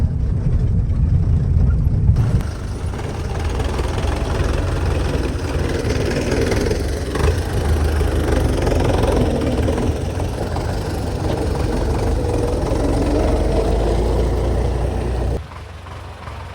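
Farm vehicle engine rumbling steadily as it drives slowly across a soybean field, a loud continuous low drone that drops off abruptly near the end.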